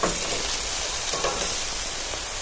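Pork sears in a hot pan with a loud, close, continuous sizzle and spatter that holds steady throughout, with no voices.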